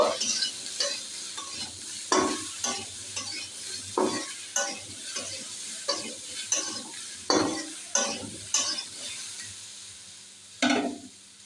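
Potatoes seasoned with turmeric and salt fry in a pan while a spatula scrapes and stirs in a steady rhythm, roughly once a second, over a constant close sizzle. No voices.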